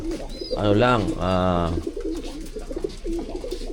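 Breeder gamefowl at feeding time: a drawn-out, wavering crowing call rises close by, with people talking and softer bird sounds underneath.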